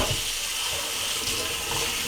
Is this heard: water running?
yes